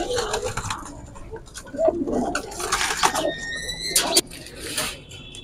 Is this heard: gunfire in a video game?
no